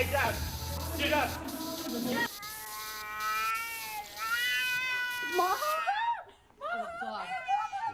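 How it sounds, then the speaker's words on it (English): A cat meows and caterwauls in long, wavering yowls near the microphone, following excited human shouting and then overlapping a short exclamation at the end. "That's a cat."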